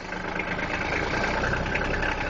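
A Kubota tractor engine runs at a steady mid-pitched idle on a ride through the woods, loud and close with an even, slightly knocking drone and no talk.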